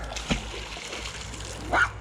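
A dog swimming in water gives one sharp splash near the start, then a brief bark or whine about a second and a half later, close by against quiet background noise.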